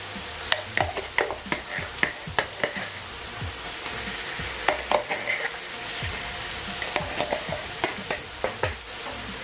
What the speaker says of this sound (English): So I'm going to add in my derica now, and I'll fry it for a couple of minutes.